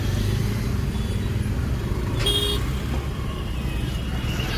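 Car engine running steadily in low gear during a driving lesson, a continuous close rumble with road noise and a brief higher whine midway, no talk.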